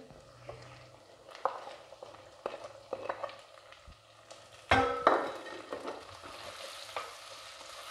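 Tomatoes and green chillies are added to fried onions for baingan bharta: food sizzles steadily in a hot pan while a utensil stirs and scrapes. A louder burst of frying comes in midway as the tomatoes and chillies hit the oil.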